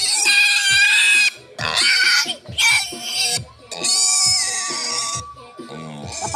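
A pig squeals loudly in long, harsh bursts while being castrated on a farm, the cries broken by short pauses, with people talking nearby between squeals.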